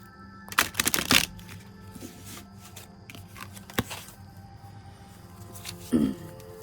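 A slippery oracle card deck is shuffled by hand, giving short bursts of riffling and flicking card sounds with quiet gaps and small taps between them, close and soft against faint background noise.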